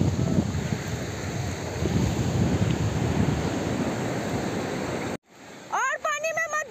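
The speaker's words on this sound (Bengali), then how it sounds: "এটা সমুদ্রের আওয়াজ, ঢেউয়ের গর্জন।" Arabian Sea surf crashing on a beach, a loud, continuous roar of breaking waves with wind buffeting the microphone, cut off near the end by a brief voice.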